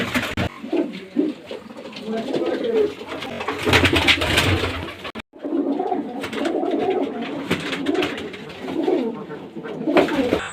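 Pigeons coo repeatedly at close range, with low throaty burbles recurring through most of the stretch, mixed with other bird calls and faint background voices, and broken by a brief gap partway through.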